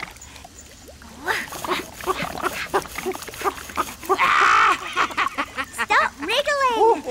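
Cartoon dog whimpering and squirming during a bath, giving short whiny yelps and squeals amid splashing, with character voices talking around it.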